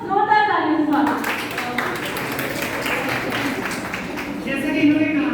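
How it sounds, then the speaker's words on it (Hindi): An audience at a hospital debate applauds to welcome a speaker, steady clapping running throughout, with a voice talking over the start and end. "जोरदार तालियों से स्वागत"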